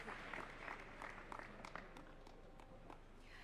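An audience at a Kenyan presidential event at KICC applauds a panel, steady dense clapping filling the hall at a moderate distance, with a few sharper individual claps standing out and murmuring voices beneath.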